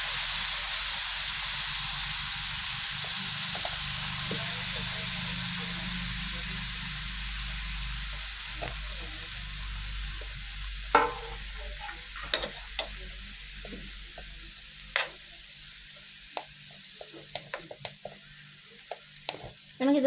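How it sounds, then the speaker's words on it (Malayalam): Chopped banana stem cooks in a pan for a traditional Kerala recipe, giving a steady sizzle and hiss that thins over time, broken by scattered clinks and scrapes of stirring near the end. "അപ്പം ഇതെല്ലാം കൂടി ഒന്ന് തട്ടിപ്പറ്റി നമുക്കൊന്ന് മൂടി വെച്ച് ഒരു 5 മിനിറ്റ് ഒന്ന് വേവിച്ചെടുക്കണം."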